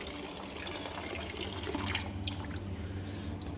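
Water pours steadily from a tap into a container being filled as drinking water for pigeons, a constant rushing splash close by with no voices.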